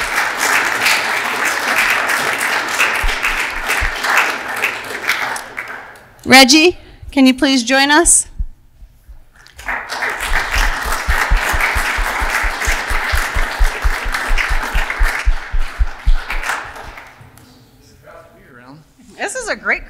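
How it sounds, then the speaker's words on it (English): A town council meeting crowd claps for the town commissioners in two long rounds of sustained applause, with a short stretch of speech between them. "Let's give everybody here, all of these commissioners, a round of applause"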